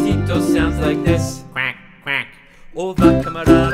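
A singer imitates a duck's quack twice within a children's farm song, the sung lines with musical accompaniment around the two nasal quack sounds.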